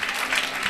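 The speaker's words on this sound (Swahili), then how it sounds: "Jipigie makofi useme tunaenda mahali." A church congregation claps together during a lively Swahili-language kesha night service, a dense steady wash of hand claps filling the space with no speech over it.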